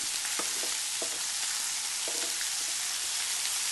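Fillet steak medallions fry in a hot pan with a dense, constant sizzle up close, broken by a few faint utensil taps.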